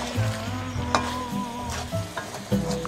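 Chicken kosha sizzling in a pan with a little water while a spatula stirs and scrapes through it, with intermittent clinks and scrapes over a steady frying hiss.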